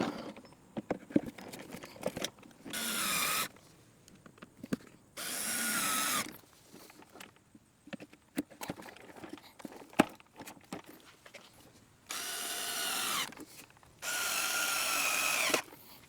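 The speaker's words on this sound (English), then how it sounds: "I'm going to attach the base to the sweeper body and then secure it with the screws." Power drill driving screws to fix the base onto the body of a Sun Joe SDJ602LS manual leaf sweeper, in four sustained bursts of one to two seconds each, with handling clatter and light knocks between them.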